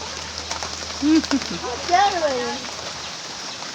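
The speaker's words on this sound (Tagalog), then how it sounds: "Ulan. Umuulanan." Steady rain pours down during a typhoon, a constant broadband hiss running through the whole stretch while voices talk briefly over it.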